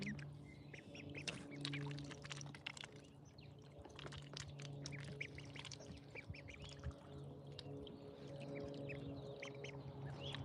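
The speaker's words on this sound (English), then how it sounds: "3-week-old ducks, believe it or not" Many three-week-old ducklings peep and quack constantly in an overlapping chorus, with a steady low hum in the background.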